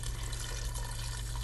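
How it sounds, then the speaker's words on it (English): Steady stream of water poured into a cooking pot, a continuous close rushing wash with no talk. "I'm going to go ahead and add the other 5 cups of water."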